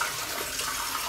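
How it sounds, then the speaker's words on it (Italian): Tap water runs steadily into a sink while a Merkur Progress 500 razor is rinsed during a shave, a close continuous rushing splash with no talk. "Guardate che flusso di acqua che creano."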